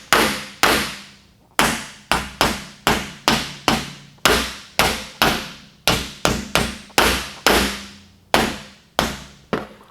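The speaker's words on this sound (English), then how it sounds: "I need to go to the sandbag and use a dolly and hammer this up to 90 degrees" Metal hammer striking a 1932 Ford dash panel against a dolly, a long run of sharp, ringing blows at a brisk, slightly uneven pace, loud and close with no talking.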